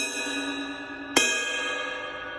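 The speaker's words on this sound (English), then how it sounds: "And of course the bell with a tip or the what's called the shoulder of the stick." A jazz cymbal's bell, struck with the tip or shoulder of a drumstick, gives a single bright ping that cuts through a fading ring and then sustains with a clear, bell-like tone, close and alone.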